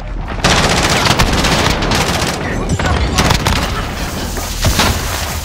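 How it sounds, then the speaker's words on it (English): A cruise missile strike in Call of Duty: Modern Warfare comes through as loud, continuous combat noise, with heavy blasts and booms layered over rapid automatic gunfire for several seconds. "Allied cruise missile launched."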